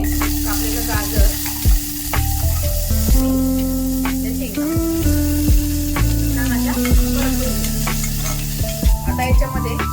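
Chopped carrot fries loudly with cumin seeds, a clove, black peppercorns and garlic cloves in hot oil. Steady close sizzling runs throughout, broken by repeated sharp stirring scrapes and clinks in the pan.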